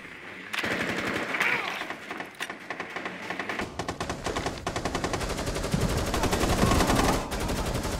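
Rapid automatic gunfire from a Rainbow Six Siege match, with dense bursts running almost continuously and loud and close, broken by single sharper shots.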